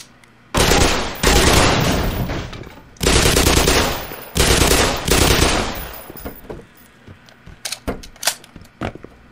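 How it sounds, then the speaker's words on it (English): Submachine gun fire at headcrabs in the video game Black Mesa: loud, close automatic bursts, several long ones back to back, then shorter scattered shots tapering off. "I'm not short of ammo though, so I don't feel too bad about using the submachine gun on head crabs"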